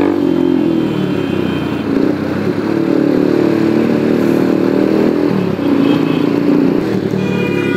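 Motorcycle exhaust revving continuously while riding, a loud steady engine roar with brief dips and surges in throttle.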